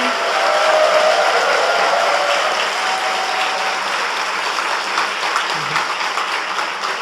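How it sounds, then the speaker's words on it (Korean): A large church congregation gives warm, sustained applause to welcome a visiting American guest pastor at an Easter Sunday service, a loud, dense, unbroken roar of clapping that carries on steadily throughout. "일어나시면 따뜻한 박수로 환영해 주시기 바랍니다"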